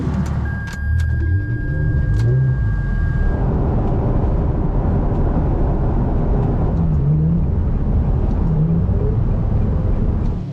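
Two Ferrari sports cars driving in fog toward a GT-R festival at Hampton Downs, New Zealand, giving a steady, loud engine rumble and road noise throughout with slight rises in revs.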